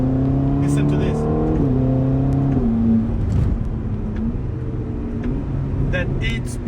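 A Ferrari Roma sports car engine accelerating through its 8-speed gearbox, the note rising and stepping down at each quick shift, loud and steady throughout.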